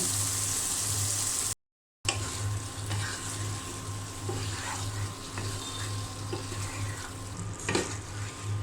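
Chicken liver frying in a spiced masala in a pan, giving a steady close sizzle with stirring and scraping, a low hum underneath and a short dropout near the start.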